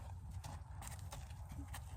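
A horse moving forward during groundwork training, reluctant but walking, its hooves clopping in a steady, fairly close rhythm over a low rumbling background.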